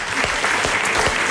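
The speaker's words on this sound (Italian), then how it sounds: "facciamogli un applauso, grazie a Mario e Pippo Santanastasi" Studio audience applauding on an Italian radio comedy show, a dense, steady clapping that fills the whole moment, loud and close, with no voices over it.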